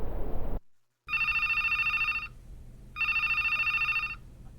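Telephone ringing in a music video intro, two long electronic ring bursts with a pause between, loud and clear after a brief noisy start and a moment of silence.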